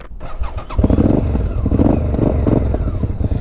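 Honda VTR 1000 Superhawk V-twin motorcycle cranking and firing up, a starter whir followed by a loud, close, lumpy idle with pulsing throbs and slight blips, no talking.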